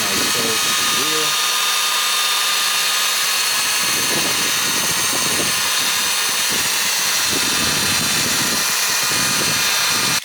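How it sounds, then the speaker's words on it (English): A power buffer polishes a three-piece wheel, its high steady whine running continuously and close for the full stretch, with scuffing contact noises and a voice talking over it. "you can just buff it in like so to the wheel"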